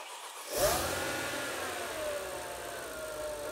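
A Whipple-supercharged Mercedes E55 wagon engine roars to life and revs up sharply, then holds a loud, throaty drone close by.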